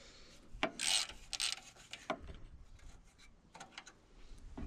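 Short bursts of metallic ratcheting and rubbing as a socket ratchet works on a 1979 John Deere Model 68 riding mower, close and fairly quiet with pauses between strokes.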